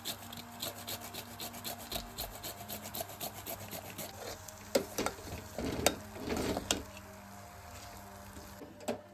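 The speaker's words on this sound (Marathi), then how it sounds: "जायफळ किसून टाकू" Nutmeg is grated for a Maharashtrian puran filling, giving soft, rhythmic rasping strokes at close range, fairly quiet, with a few sharper scrapes near the end and no talk.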